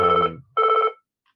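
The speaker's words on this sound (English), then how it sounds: "Oh, somebody's ringing me." A telephone rings loudly and close by during a podcast conversation, giving two electronic trilling bursts separated by a brief gap and then falling silent, with no voices over it.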